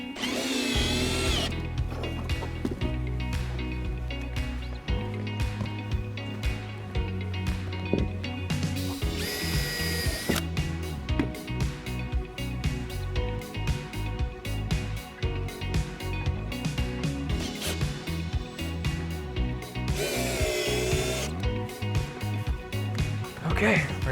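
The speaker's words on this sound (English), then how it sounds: "take a 1/4-inch drill bit, drill down to at least the depth of one of those plugs we were using" A power drill with a 1/4-inch bit bores into a wood deck board, whining in a few loud bursts over a steady backing of music and other sounds.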